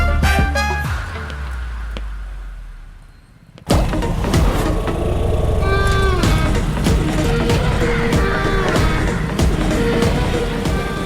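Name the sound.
car approaching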